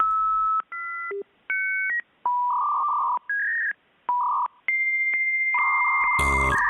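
A telephone keypad sends a quick series of dialing beeps, each a short steady electronic tone at a different pitch, ending in a brief harsher burst.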